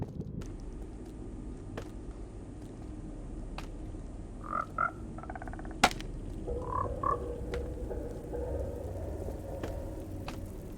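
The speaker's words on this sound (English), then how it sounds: "Just walking my frogs." Frogs croak in the Minecraft video game, two short pairs of bright croaks several seconds apart over a quiet ambient background with scattered soft clicks.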